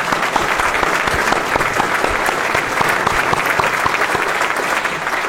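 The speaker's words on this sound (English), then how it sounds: "Let's give a rousing round of applause to Irv and Kay for their tenacity." Steady, loud audience applause for honorees Irv and Kay at an anniversary celebration, many hands clapping continuously and close without pause.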